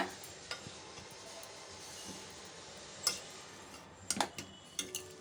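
Puli pongal stirred in an opened pressure cooker, with soft scraping and scattered light metallic taps and clinks of a spoon against the pot, several clustered near the end, quiet and close.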